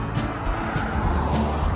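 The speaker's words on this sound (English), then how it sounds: "A lot of traffic." Road traffic rolls across the Merrill Barber Bridge in Vero Beach, a steady broadband roar of nearby cars passing continuously with brief swells as vehicles go by.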